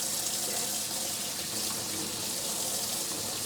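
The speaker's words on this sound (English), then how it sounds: "Just running it under cold water." Cold tap water runs steadily over a Shock Doctor mouthguard, a loud, continuous, close hiss and splash with no pauses.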